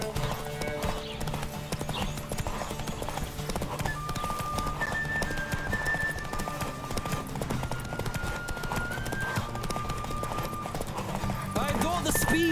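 Hooves clip-clop in a steady galloping rhythm as a horse runs in The Witcher 3: Wild Hunt, with an occasional whinny, backed by continuous music and voices talking over it.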